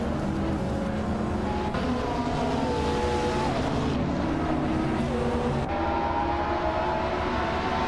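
Race cars accelerating off the starting line in a racing game, engines rising in pitch through several gear shifts, a dense continuous roar of multiple cars close and loud.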